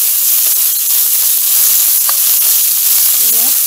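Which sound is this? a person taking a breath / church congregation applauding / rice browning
rice browning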